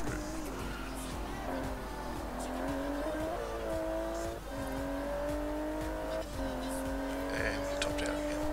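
A car engine in the Forza Horizon 4 racing game revs up through fourth gear to the top of the range, a continuous rising drone with brief dips at shifts and some tire noise, loud and close.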